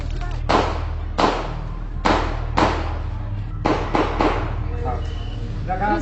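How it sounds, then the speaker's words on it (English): Loud, sharp bangs of gunshots mixed with firecrackers outside during a night of unrest, coming in irregular bursts of single and doubled reports over a low steady rumble, with some faint voices underneath. "Apparently, some of the shots we heard were firecrackers, so not all gunshots."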